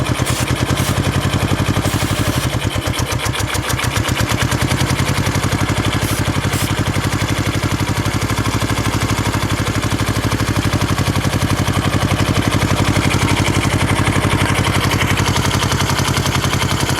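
A 1970 Honda SL350 motorcycle engine with an air leak idles steadily and loudly at close range, a continuous throbbing run with no talk over it.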